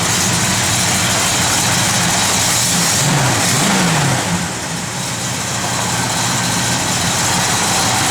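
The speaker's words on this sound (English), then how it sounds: "Good running big block, man." A 1972 Oldsmobile 442 with a big block engine and a mild cam idles loudly up close, a steady rumbling note with a brief blip of revs partway through before settling back to idle.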